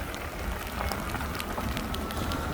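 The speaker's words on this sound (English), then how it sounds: "it's raining pretty good" Steady rain hisses and patters during a ride on a Lectric XP e-bike, a dense, even wash of noise close to the microphone with no voices.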